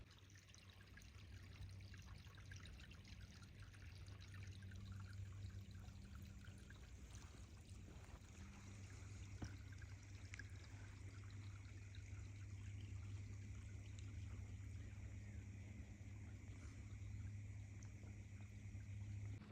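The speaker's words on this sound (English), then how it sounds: "you hear that water?" A stream trickles and pours steadily along an outdoor route from California to Oregon, a soft, continuous burble that stays faint and even for the whole stretch, with no talking.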